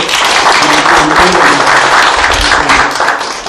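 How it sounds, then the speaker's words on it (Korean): Church congregation clapping together in thanks to God during a Sunday service, a loud, close rush of hands with a low rumble near the end, fading slightly as it closes. "우리 박수 한번 해주실래요?"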